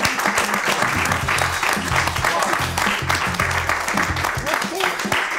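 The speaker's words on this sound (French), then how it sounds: "on peut applaudir encore une fois notre gagnant" A studio audience gives a quiz-show winner loud, continuous applause, dense clapping carrying on steadily with some voices and music mixed in beneath.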